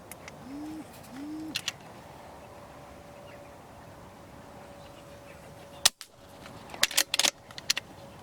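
An air rifle fired at a wood pigeon over decoys on a rainy day: after several quiet seconds with a couple of soft bird calls, one sharp, close crack lands midway, followed by a scatter of light knocks and clatters.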